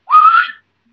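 A single short, rising whistle imitated by a human voice, the kind heard in the woods, close and clear, lasting about half a second before silence.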